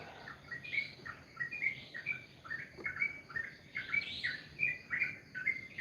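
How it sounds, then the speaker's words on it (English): Small birds chirp and tweet outdoors at sunrise in a quick, busy chorus of bright, repeated calls, fairly faint and steady with no talking. "Can you hear the birds?"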